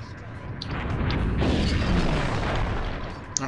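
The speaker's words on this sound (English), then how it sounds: "being in the explosion of my own ship, bad tactics" In the video game Space Pirates and Zombies, the player's own ship explodes in a loud, sustained boom that swells, rumbles for a couple of seconds, then fades, with a small sharp pop near the end.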